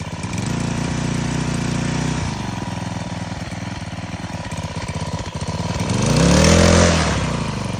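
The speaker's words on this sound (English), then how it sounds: "this is connected to the throttle, so as you pull the rope, the capstan spins" A small engine drives a capstan winch on a log cabin gin pole, running at a steady buzzing idle close by, then revving up loudly around the sixth second before settling back.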